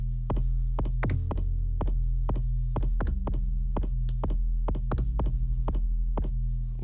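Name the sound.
synthesizer kick drum bass sound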